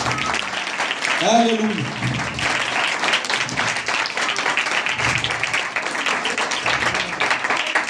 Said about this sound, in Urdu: ذرا یسوع کے لیے تالیاں زور سے بجائیں۔